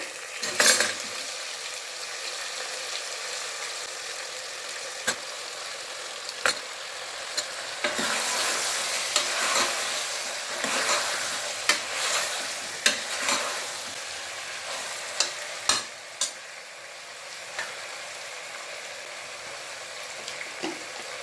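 Cut brinjal and potato fry in a pan for cowpea masala curry, a steady sizzle broken by scattered clicks of a spoon stirring against the metal.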